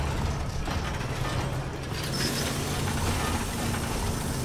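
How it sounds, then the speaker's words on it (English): Tank cannon reloading in Resident Evil Village, a sustained mechanical grind of ratcheting gears and clanking metal that shifts partway through, heard fairly close over a low rumble. "the cannon takes some time to reload"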